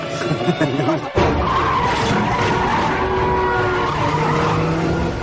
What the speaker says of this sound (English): I'm in the big white heavy Suburban hitting Hubie in the little blue car